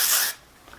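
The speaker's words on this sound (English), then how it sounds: "So I am putting in some of the Eva NYC Surfs Up Texture Spray" A short, close burst of Eva NYC Surfs Up hair texture spray hisses from an aerosol can for a fraction of a second, then cuts off into quiet.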